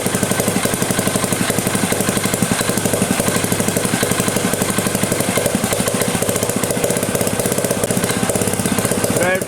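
Transparent two-stroke combustion engine running at high speed, a loud, continuous rapid rattling buzz with a fast, even firing pulse throughout, close and unbroken.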